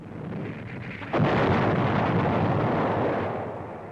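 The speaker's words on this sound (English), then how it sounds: "Sometimes it's necessary to use TNT persuaders, and they are very effective." A TNT charge blowing up a pillbox during the 1943 Marshall Islands invasion, a sudden heavy blast with a long rumbling roar that slowly fades, recorded on old, muffled newsreel sound.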